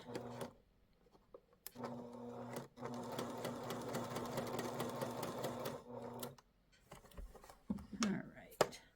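Machine stitching of a fabric quilt binding, a steady motor whir and needle chatter running for several seconds between short stops and light handling noises, quiet and close.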